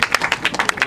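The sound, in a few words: applause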